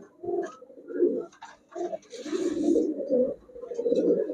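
A rare Lal Mushaldom pigeon pair coos in a loft, a series of low rolling throaty calls close by, repeating almost continuously with short pauses and a faint higher rustle.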